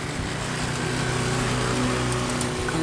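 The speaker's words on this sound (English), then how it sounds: "a lawnmower" A lawnmower engine drones steadily in a backyard, a close, loud, continuous buzzing hum with no pauses and no talk.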